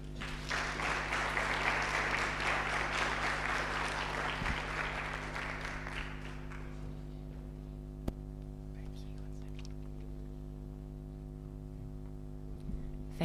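Audience clapping at an alumni network gathering welcomes a speaker, a moderate crowd applause that fades out after about six seconds, leaving a quiet hum of the room.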